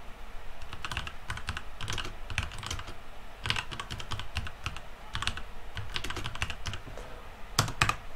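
Steady, rapid keystrokes on a computer keyboard while entering text in the Vim editor, with irregular bursts of clicks and a sharper cluster near the end, close and clear with no talking.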